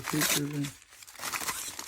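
Paper crinkles and rustles loudly up close for a couple of seconds, with a short tearing rip, while opening a Beckett grading return package, as a voice murmurs briefly underneath.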